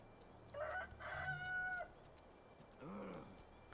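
A chicken in a video game gives a rising, strained crow-like call, then a brief pause and a lower cluck, fairly faint and clear with no talk over it.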